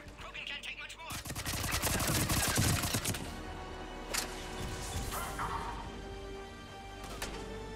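Rapid submachine gun and assault fire in the sci-fi shooter Mass Effect 3, loud dense bursts up front that thin into scattered shots and impacts, with battle voices mixed in.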